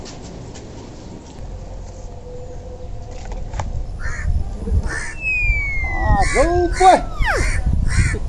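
Crows caw in an outdoor village setting during a comedy sketch, a few harsh calls near the end rising over background noise and speech.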